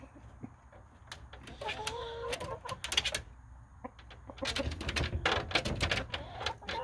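A rooster clucks in a run of short, chattering calls, with a few louder bursts and a busier stretch near the end, close by with light background rustle.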